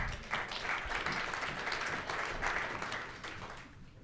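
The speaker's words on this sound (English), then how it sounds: "Yeah, give them a round of applause." A conference audience gives a round of applause as a volunteer comes up on stage at a leadership keynote, a steady wash of many hands clapping for about four seconds, fairly distant and even, fading slightly at the end.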